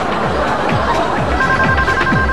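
Telephones ring in a busy police department office, a repeating warbling ring heard amid a dense, loud background of overlapping chatter and crowd noise.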